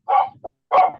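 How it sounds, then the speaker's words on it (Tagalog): A dog barks nearby, two sharp loud barks about half a second apart with a small yip between them, heard alone without talk. "ang ingay ng aso sa gilid"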